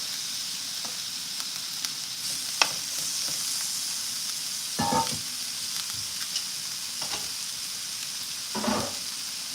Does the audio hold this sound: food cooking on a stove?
yes